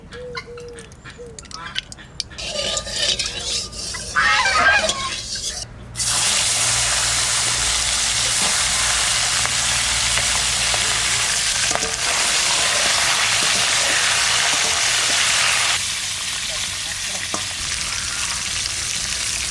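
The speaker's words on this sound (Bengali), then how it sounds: "কড়াই গরম হয়ে গেছে, তেল দিয়ে দেবো" Oil goes into a hot wok over a low flame in a village kitchen, setting off a loud, steady sizzle that holds for about ten seconds and then eases a little. Brief clatter and a few spoken words come before it.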